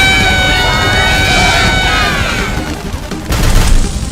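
A loud burst of swirling, shimmering effects with rising tonal sweeps, then a sudden crashing impact near the end, like a magical blast, from a spell splitting a character into 20 copies.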